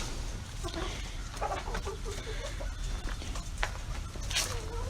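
An Americana rooster and other chickens cluck and murmur in a coop, with rustling, scratching and a low, steady background hum.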